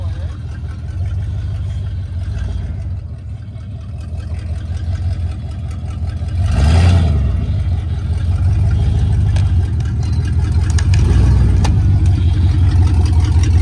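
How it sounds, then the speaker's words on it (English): A Dodge car doing a burnout on plywood, its engine loud and close, idling then revving up in surges with people talking over it. "Go plywood burnouts. Always work well."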